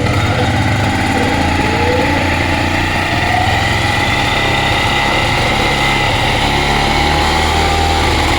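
A 78cc ATOM 80 two-stroke light aircraft engine with a WB32 130 cm propeller runs steadily at high power, a loud continuous drone with a buzzing whine that holds even throughout, no talk.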